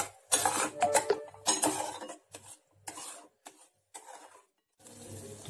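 Tomato puree and onions sizzling and being stirred in a pan for a royal kofta curry, with repeated clinks and scrapes of a utensil against the pan in uneven bursts, close and moderately loud, no talking.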